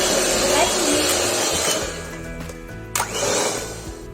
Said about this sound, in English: Vihan, will you help me mix all this so that I can scrape off the sides of the bowl?